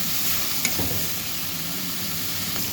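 Hotdog pieces frying in a pan for sopas, a steady close sizzle with occasional stirring taps and scrapes of a utensil against the pan.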